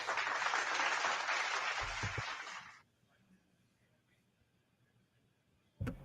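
Recorded applause played back during live NFL Draft rounds 2 and 3 coverage, a dense burst of clapping for nearly three seconds that cuts off abruptly, then near silence before a brief thump at the end.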